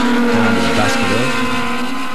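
1980 SCCA GT-3 National Championship race cars at speed: steady, loud engine drone with brief pitch sweeps as cars pass and shift, filling the whole short stretch.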